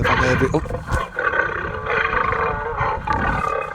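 A loud recorded lion roar booms from a drive-through Christmas light display at a park in Layton, Utah. It rumbles on for several seconds, heard close from inside a car.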